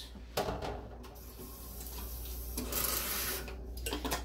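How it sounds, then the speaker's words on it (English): Water from a tap runs steadily into a jar to rinse it in a home kitchen while cooking taco meat, a continuous close splashing hiss with a few clinks at the start. "I'll clean out my jar with that little bit of water."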